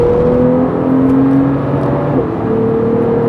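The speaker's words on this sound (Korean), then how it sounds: "이 사운드가 원래 포르쉐 사운드랑 다른 거였던가?" A Porsche 911 (991) Carrera 4S MK2 drives along, its engine giving a steady, loud droning hum with slight shifts in pitch, heard from inside the car with no voices.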